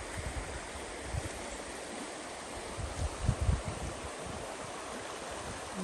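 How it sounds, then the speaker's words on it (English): A river running high after rain rushes steadily beside a wet riverside camp, a faint, continuous broadband wash with a few low swells and no voices. "And the river's pretty well up"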